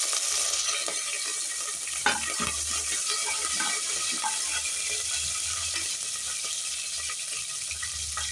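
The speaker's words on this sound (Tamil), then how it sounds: "சின்ன வெங்காயம் சின்ன வெங்காயம் நல்லா வதங்கணும்" Small shallots and curry leaves fry in a tempering with fennel seeds for a goat head curry, giving a steady, soft sizzle and hiss with a faint watery texture that runs throughout.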